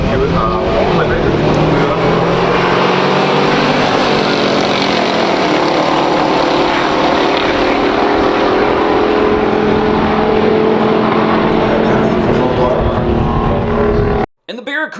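Two 1971 muscle cars, a Plymouth Cuda 440 and a Buick GS455, launch in a pure stock drag race, their engines roaring loud and continuous for the full run before cutting off abruptly, with crowd noise beneath.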